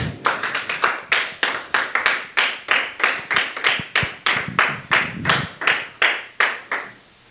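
A church congregation claps together in a steady, rhythmic beat of sharp, close hand claps, about two or three per second, with no talk, ending abruptly near the end.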